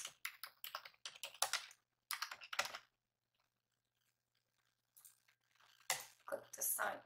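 Quick bursts of computer keyboard typing, close and crisp, come in short runs separated by a silent pause, with a voice speaking at moments.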